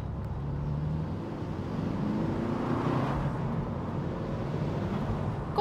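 A Saab 9-3 Viggen's engine pulls hard after a downshift into second gear, a steady, loud, broadband roar with road and cabin noise that holds level throughout, no voices over it.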